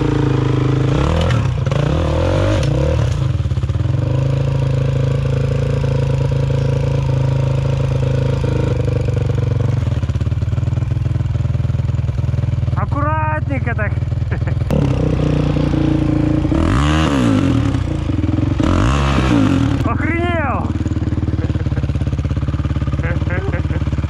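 A Minsk X250 motorcycle engine rumbles and revs loudly throughout, with repeated rising surges, rattling and scraping on rough terrain, and voices talking over it.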